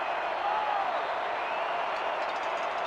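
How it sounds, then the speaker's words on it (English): A home team crowd cheers at a football game between Sin City and Los Angeles, a steady, washy roar that stays fairly faint and even throughout with no single voices standing out. "you hear the home team crowd getting into it"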